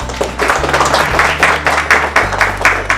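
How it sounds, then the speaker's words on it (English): An audience claps in a loud, uneven burst of applause that runs throughout, with a low steady hum underneath. "Give a round of applause"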